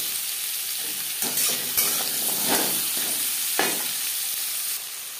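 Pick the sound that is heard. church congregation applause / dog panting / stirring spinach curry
stirring spinach curry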